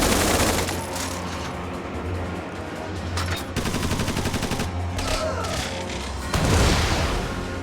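Units in the strategy game Tiny Metal attack with focus fire, producing dense rapid gunfire bursts and heavy booming impacts that roll on continuously, ending in a loud crashing blast.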